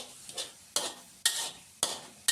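Minced pork with oyster sauce stir-fried for pad kra pao, close-up spatula strokes landing in a regular rhythm of about five sharp scrapes, each trailing into a brief sizzle.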